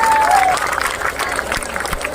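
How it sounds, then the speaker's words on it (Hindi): Loud applause and crowd noise at a Rajasthan employees' rally on pensions, a dense burst of clapping with a brief whistle near the start that fades slightly over two seconds. "इसके लिए जोरदार तालियां साथियों"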